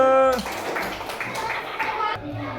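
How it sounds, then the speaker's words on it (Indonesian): Children clap together in a classroom, a quick flurry of hand claps under children's voices and chatter, close and lively. "Oke, tepuk tangan dulu."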